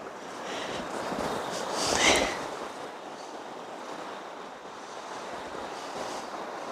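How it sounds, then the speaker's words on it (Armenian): Water washes against a shore in a continuous soft rush, swelling once briefly, with wind buffeting the microphone and no speech over it. "մանավանդ այդ ջրի ձայնը"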